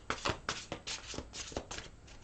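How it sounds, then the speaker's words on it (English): A large, old deck of tarot cards is shuffled by hand up close, with a run of quick riffling bursts in an uneven rhythm and no talking. "I'm going to shuffle just a little bit."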